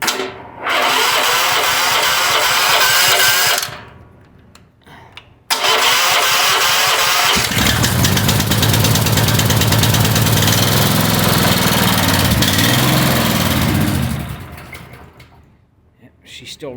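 A gasoline engine that had been fouled with diesel cranks, stops briefly, then catches and runs loud and close with an uneven, rough idle for several seconds before dying away.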